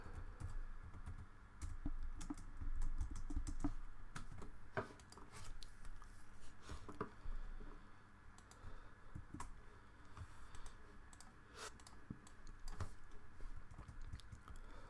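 Joint coordinates typed into the STAAD Pro editor on a computer keyboard: soft, close key clicks in uneven runs over a faint background hum, with no one speaking.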